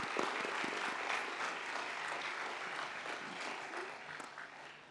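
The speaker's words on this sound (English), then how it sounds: "Let us give a round of applause to graduates who have just been presented." A commencement crowd at a university graduation ceremony claps for newly presented graduates, sustained applause with individual hand strikes standing out near the front, steady and moderately loud before easing slightly at the end.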